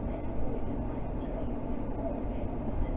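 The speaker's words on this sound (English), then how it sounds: "that's a long container car train" A long container train rumbles past Northwick Park station, a steady low continuous roar with faint wheel noise and no clear breaks.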